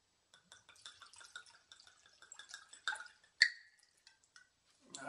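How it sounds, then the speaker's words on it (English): A SkinnyGirl margarita pours from a bottle into a glass in a soft, faint trickle with scattered drips and a sharper clink near the end, no voices. "I'll pour."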